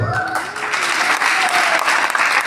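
An audience claps in a hall, a steady, loud wash of many hands over sustained tonal sounds in the background.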